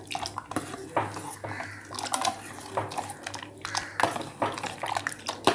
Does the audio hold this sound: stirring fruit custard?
yes